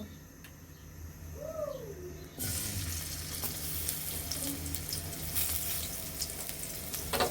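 Chopped onions drop into hot oil in a kadai and start frying: a quiet room with a bird call, then a sudden, close, steady sizzle that continues to the end.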